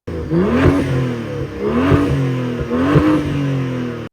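A BMW F30 3.0 hybrid with a straight-pipe exhaust revs up three times in quick succession, each loud, rasping surge climbing and falling back to a steady idle rumble, close by with no talking.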